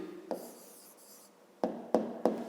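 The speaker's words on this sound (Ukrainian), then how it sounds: "Ну, а тепер записуємо відповідь. Пишемо відповідь." A pen or pencil writes an answer by hand on paper in a quiet room: a soft, faint scratching stroke, a pause, then three short sharp taps and scrapes close by.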